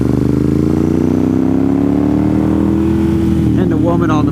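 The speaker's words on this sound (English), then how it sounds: "Five trikes and a motorcycle at the rear." Five trikes and a motorcycle passing on a damp road near the Deals Gap overlook, engines droning loud and close with a rising then falling pitch as they go by.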